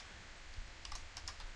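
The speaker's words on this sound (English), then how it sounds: "this seems like a lot of typing" Faint clicking of computer keyboard keys being typed on, a few light scattered taps in the second half over a quiet room hum.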